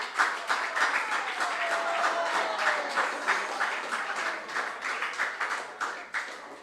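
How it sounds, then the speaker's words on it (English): A crowd at a junior science and maths quiz applauds steadily, a dense patter of clapping that swells and then tapers off toward the end. "Let's clap for them."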